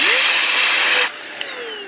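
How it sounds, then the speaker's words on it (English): A strong air blower blasts a computer fan with a loud, steady rushing hiss that shifts in pitch as the fan spins up with a rising whine, then drops to a quieter whir for the last second. "I'll just use a strong blower like that"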